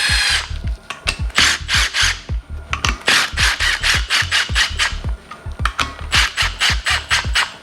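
A power tool gun runs down engine bolts on a Yamaha YFZ450R engine build, loud close bursts of rapid ratcheting whir, about a dozen in a rhythmic series with brief pauses.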